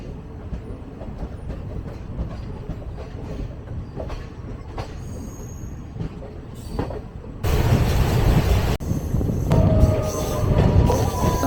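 Kamban Express train running from Chennai toward Tiruvarur, a steady loud rumble of wheels on rail with clicking joints, swelling suddenly louder partway through as the noise opens up close by.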